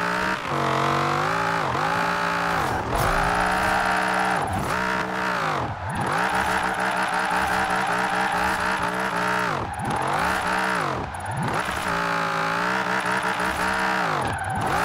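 A LaFerrari races in the video game Forza Horizon 4, its engine howling loud and close, climbing through the revs in repeated surges with sharp drops at each gear change and brief tyre squeals.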